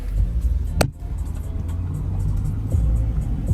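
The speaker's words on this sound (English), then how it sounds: "Sounds like it had a weed whacker engine." A small old car engine buzzes and revs near a stone church, its thin, rattly whine rising over a rumbling idle, with a brief sharp click partway through and no talking.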